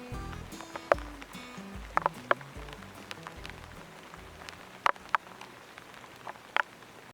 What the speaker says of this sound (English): the rain's coming down right now